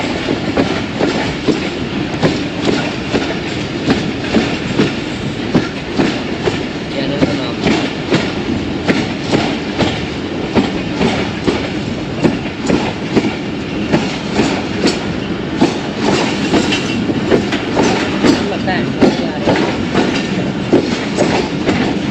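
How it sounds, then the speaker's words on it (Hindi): Freight train hauled by an AG30 locomotive at Wazirabad Junction, loud close wheel clatter pounding in a steady rhythmic clickety-clack as wagons roll past continuously. "AG30 लोकोमोटिव यहाँ पे मालगाड़ी के साथ मौजूद है।"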